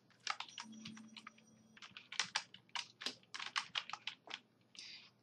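Rapid bursts of typing on a computer keyboard while entering an HTML H1 tag in Notepad, keystrokes clicking in quick uneven runs with short pauses, close and fairly quiet.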